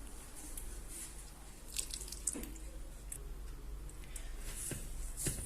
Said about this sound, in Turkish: Ve yavaş yavaş suyu dökerek karıştırıyorum.